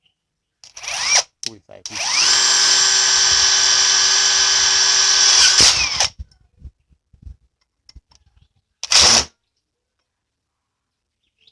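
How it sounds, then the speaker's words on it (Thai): An AEG impact wrench set to auto mode drives a nut with a size 8 socket, one loud sustained whine of about four seconds between short clicks, then a second brief burst. "ก็เดี๋ยวผมจะใช้บล็อกเบอร์8ยิงโหมดออโต้นะครับยิงน็อตปลายสว่าง"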